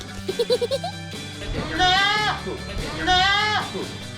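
Goats eating bananas on a farm, with several bleats rising over a steady background, preceded by a short run of quick clicking sounds.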